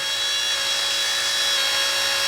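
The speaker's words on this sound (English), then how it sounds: "as it starts to wind up, you sort of slide your fingers down away from the drill" A power drill twists wires into a twisted-pair harness, a steady high-pitched motor whine with a constant tone running loud and unbroken throughout.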